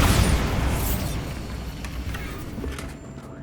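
A Bombarda blasting spell explodes in Hogwarts Legacy, starting with a loud, booming burst and then a long rumbling decay full of debris. A few faint clinks sound near the end.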